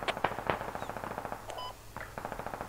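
Rapid machine gun fire in the video game Operation Hired Guns, with steady bursts of sharp cracks repeating close and loud, a short pause and beeping tones in the middle, then the firing resumes.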